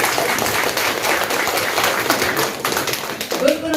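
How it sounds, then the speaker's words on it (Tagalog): An audience claps at a product testimonial event, a dense, loud burst of applause throughout with voices mixed in. "Sige, palakpak po."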